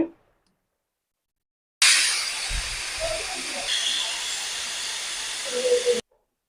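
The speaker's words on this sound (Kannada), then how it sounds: "ನಾನೀಗ ಕುಕ್ಕರ್ ಮುಚ್ಚಳ ಮುಚ್ಕೊಂಡು ಎರಡು ವಿಜಲು ಕೂಗಿಸ್ಕೊಂಡು ಬರ್ತೇನೆ" A pressure cooker on the stove releases a sustained, loud hiss of escaping steam while cooking vegetable pulao, steady for about four seconds and cutting off abruptly.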